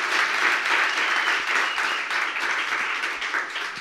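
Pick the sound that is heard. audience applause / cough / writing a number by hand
audience applause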